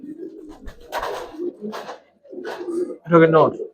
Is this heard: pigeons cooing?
yes